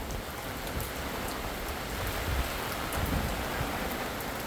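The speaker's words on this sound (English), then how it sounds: "Hey, it's raining pretty good too." Rain falls steadily in a Utah backyard during a thunderstorm, a dense, even hiss with scattered drops pattering near, continuous and without talk.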